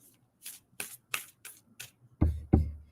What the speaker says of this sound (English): And then we're going to shuffle for number 2.